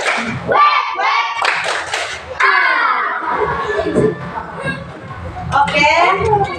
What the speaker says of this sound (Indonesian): Yang terakhir, tepuk santai.